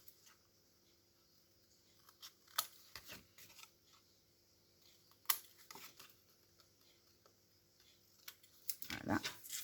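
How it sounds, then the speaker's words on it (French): Small scissors snip paper tabs for a flipbook in a quiet room, giving scattered crisp cuts and rustles with short gaps and a busier cluster of handling sounds at the end. "je vais venir faire mes languettes. Donc, je vais prendre mes petits ciseaux."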